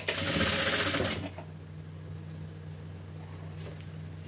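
A sewing machine stitching blouse sleeves runs in a steady, close whir for about a second, then stops, leaving a low electrical hum and soft handling noises.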